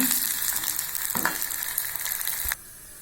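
Aval and onion vathal frying in hot oil, a steady dense crackling sizzle with a few sharper pops, cutting off abruptly near the end to leave only faint quiet.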